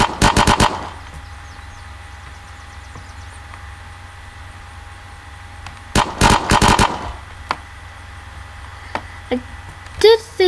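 Gunfire in the video game Unturned: two bursts of rapid shots, one at the start and one around six seconds, loud and sharp, with faint game ambience between and a few small clicks near the end.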